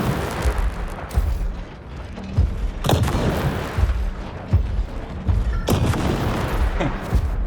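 Weapon fire from battling mechs in the robot combat game War Robots: Frontiers, with booming, rumbling shots and blasts repeating every second or so over a dense, loud mechanical din.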